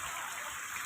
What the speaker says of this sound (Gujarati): વરસાદ ચાલુ થઈ ગયો છે ધોધમાર વરસાદ આવી રહ્યો છે